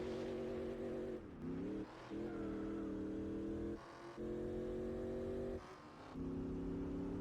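A race car engine drones steadily in Gran Turismo 4, a rear-wheel-drive machine holding a high even pitch, dipping briefly three times as it lifts and shifts before climbing back, loud and alone.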